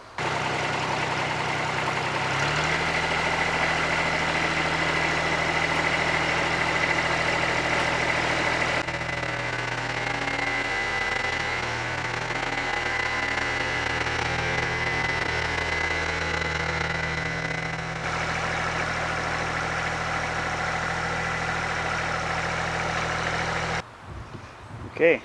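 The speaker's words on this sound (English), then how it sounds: "For that, I'm going to go grab the tractor." A tractor engine idles steadily at a sawmill, its low, even drone running loud and close for about twenty-four seconds before cutting off near the end.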